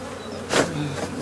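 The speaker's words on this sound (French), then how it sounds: "il y a des abeilles qui sont coincées en dessous" Bees trapped beneath a beehive's bottom drawer give off a brief, close buzzing swell that rises and fades, standing alone with no talk.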